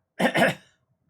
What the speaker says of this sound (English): I was having a coughing attack.